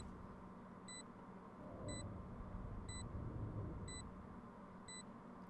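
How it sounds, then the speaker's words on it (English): A new spike-planted sound in the Valorant video game, evenly spaced high beeps about once a second over a soft whooshing rumble, quiet and without speech. "instead of just the beeping, it has this little like whoosh thing to it"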